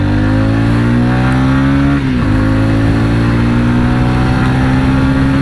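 A 2022 TVS Ronin motorcycle engine revs hard and climbs in pitch, drops briefly as it shifts gear, then pulls up again, loud and close.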